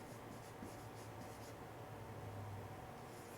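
Numbers written by hand during a math lesson on word problems: a continuous, close scratching of the writing tip across the surface for a few seconds, with no talking.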